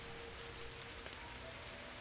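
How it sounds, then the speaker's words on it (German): Steady rain from the video game Paranormal State: Poison Spring pours constantly, a dense even hiss of drops on surfaces with no voices over it. "Der Regen, ne? Der ist so laut und sowas."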